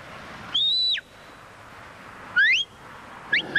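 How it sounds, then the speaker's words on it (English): Shrill tin whistle of a Border Collie shepherd, blown in three separate calls: a long sustained high note, then two shorter rising upward-sliding blasts, clear against quiet outdoor background. "this whistling with this piece of tin with the hole in"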